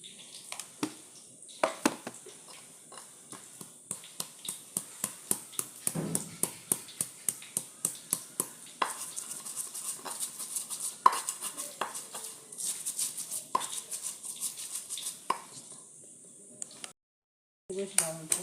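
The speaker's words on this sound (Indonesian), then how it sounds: "sekarang kita giling kunyit sama garam" Turmeric and salt being ground together in a kitchen, a long series of sharp rhythmic knocks and scrapes, close and fairly loud, with a brief pause near the end and no speech over the grinding.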